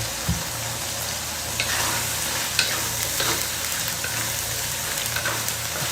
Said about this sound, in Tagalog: Mix natin ang ating gulay. Ang ating repolyo.